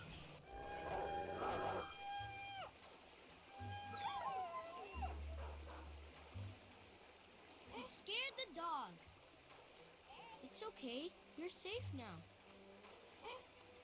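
Dogs whimper and howl in the Up video game, with rising and falling cries scattered across the stretch over background game music and effects, while a voice talks in places.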